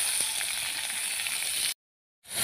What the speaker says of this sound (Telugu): ఉల్లిపాయలు బాగా ఎర్రగా వేయించుకోవాలి.